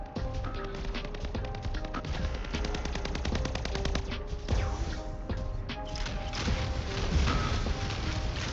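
Mech guns firing in the game Mech Arena, rapid sustained bursts of automatic shots rattling continuously and loudly with brief pauses, no talk over them.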